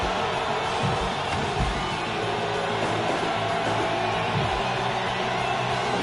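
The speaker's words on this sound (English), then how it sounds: "Crowd is so loud you can't even hear the referee count." A wrestling crowd at a no-DQ match roars steadily and loudly throughout, a dense wash of cheering with no breaks and no clear voices standing out.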